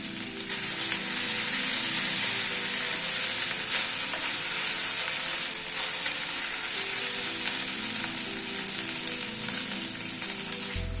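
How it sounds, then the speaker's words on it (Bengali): Ginger, garlic and green chillies sizzle in a pan while being stirred, a loud continuous hiss with light scraping and crackle that holds steady for about ten seconds. "আদা রসুন কাঁচা লঙ্কাটাকে মিনিট খানেক জাস্ট একটু নাড়াচাড়া করে নিলাম।"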